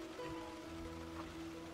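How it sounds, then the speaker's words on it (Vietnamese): Steady rain falls outdoors beside a natural river during a fishing outing, a continuous soft wash of drops with a low hum underneath and no talking. "mưa nữa ướt"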